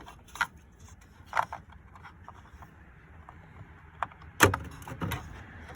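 A replacement headlight switch in a 2007 Chevrolet Silverado is worked into its dash slot, giving a few quiet, sharp plastic clicks and snaps at irregular intervals, the firmest one near the end, amid low handling noise.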